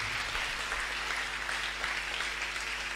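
A church congregation at a Sunday service claps and applauds for Jesus Christ, with dense, sustained applause at moderate loudness filling the room throughout.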